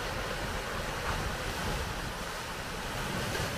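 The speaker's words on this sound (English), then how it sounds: "I think I could just sit here all day and listen to the ocean come in." Ocean waves roll in along the Haleiwa coast on Oahu, a constant broad wash of surf mixed with wind buffeting the microphone, steady and fairly loud with no voices.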